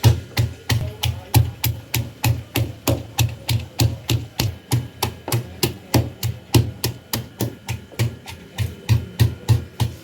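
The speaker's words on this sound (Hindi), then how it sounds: "अब मैं इसको कूटती हूँ, कूट के इसका पेस्ट बना के चावलों के अंदर" Green chilies pounded into paste in a stone mortar, a steady run of sharp stone-on-stone thuds about three per second, close and continuous throughout.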